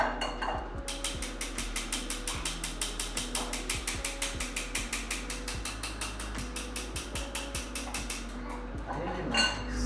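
Cupcake batter being mixed by hand in a bowl in a kids' cooking class, a fast, regular run of scraping clicks against the bowl repeating steadily at close range, with no talk.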